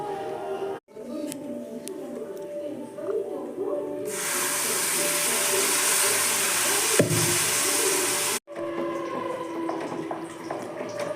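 Ground banana and milk mixture hits a hot ghee-coated pan with cashews, letting out a loud, steady hiss that holds for several seconds, with stirring clatter and background noise around it.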